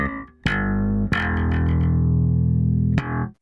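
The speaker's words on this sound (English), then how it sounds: "without the envelope filter, the bass sounds like this" An active bass guitar running through a preamp, a direct box and pedals without an envelope filter plays a few loud, sustained distorted notes with sharp plucked attacks. The notes ring out close and alone.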